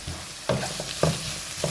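A boiled potato frying for chana chaat, a steady sizzle in the pan broken by three spaced scraping strokes of a spatula, close and moderately loud with no talk.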